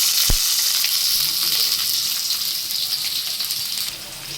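Whole garam masala and sliced medium onions frying in oil in a kadai for green chilli chicken curry, giving a loud, steady sizzle with a light clink near the start.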